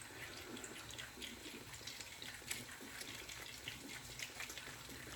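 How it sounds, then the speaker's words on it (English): Water runs from a tap into a sink during face cleansing, a steady close hiss and splash that keeps a low, even level throughout, heard alone. "I gotta put a little bit of water on."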